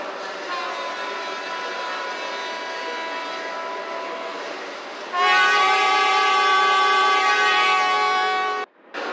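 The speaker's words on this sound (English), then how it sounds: "Now arriving on track 3 is a Manhattan Limited Northbound Express service" A simulated Manhattan Limited northbound express train pulls into a New York City subway station in the Trainz game, as a steady tonal drone that turns abruptly louder and brighter midway, then drops out briefly just before the end.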